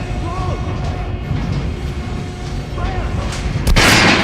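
A single sharp gunshot cracks near the end at a training dummy on a firing range in the video game Metro Last Light Redux, after several seconds of low rumbling game ambience.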